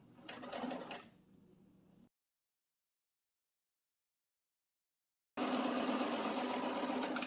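A sewing machine stitches fabric for a jar opener. A short buzzing run fades, then comes a pause of silence, then a louder, steady stitching run resumes close by, with no voices.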